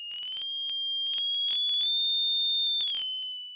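Sine wave tone generated in SDL2 with a changing frequency, a pure steady whistle that drifts slightly upward then back down, broken by brief clicks and glitches.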